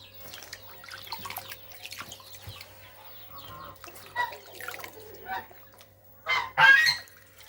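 Geese honking loudly in a couple of harsh bursts near the end, after scattered bird calls and quieter background clucking and dripping water.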